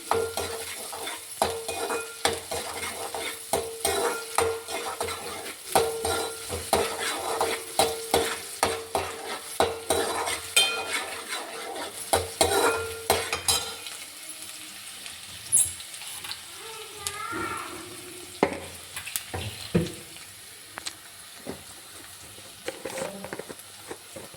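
Onions sizzle and fry in a pan while a spoon stirs and scrapes them, with steady crackling and frequent clinks of utensil on metal, the stirring busier at first and then easing into quieter sizzling.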